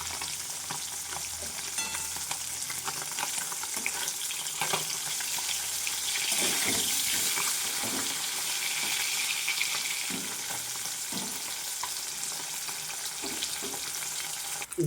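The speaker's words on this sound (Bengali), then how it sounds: "দেখুন বন্ধুরা মাছটা ভাজা হয়ে গেছে" Koi fish fry in hot oil with a steady, dense sizzle and occasional soft stirring scrapes, close and moderately quiet, with no talking.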